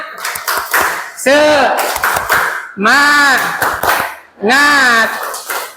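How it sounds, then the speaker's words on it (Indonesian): A classroom of students performs a rhythmic spirit clap, several bursts of sharp clapping alternating with loud group chanting, close by and filling the room. "mari kita tepuk semangat."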